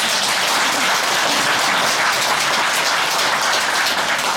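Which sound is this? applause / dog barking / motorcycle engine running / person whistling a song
applause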